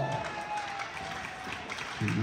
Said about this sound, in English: applaudissons l'entraîneur en chef Dominique Dicker